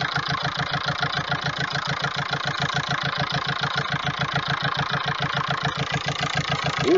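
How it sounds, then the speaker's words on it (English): A steady idling engine with a fast, even pulsing throb and a constant airy hiss running through it, close by, with no voices. "I wasn't hearing a hiss before I plugged that back into the vane pump. Now I'm hearing a hiss."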